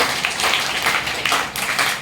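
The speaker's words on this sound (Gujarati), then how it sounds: "ચાલો આપણે બધા ગોપીઓ માટે ને કાના માટે તાળી પાડીએ" An audience of children and adults claps for kids dressed as Krishna and gopis at a costume competition, a close, loud, scattered patter of hand claps with irregular peaks that thins out near the end.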